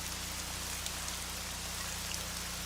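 Steady rain falling on surfaces, a soft continuous patter with scattered individual drops, moderately faint under a low constant hum and with no talking.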